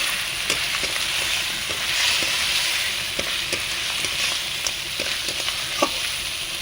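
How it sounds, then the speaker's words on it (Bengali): Fried crab pieces and potato chunks sizzle with spices in a pan during bhuna, a steady close hiss punctuated by regular clinks and scrapes of a spatula stirring. "ভেজে রাখা কাঁকড়াগুলোও দিয়ে দেবো, দিয়ে এই মশলার সঙ্গে ভালোভাবে আমি কষিয়ে নেব।"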